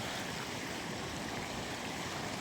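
Steady, dense rushing of the Chandrabhaga river flowing past the Vevar Mahadev temple in Rajasthan, a loud continuous broadband wash with no pauses and no voices.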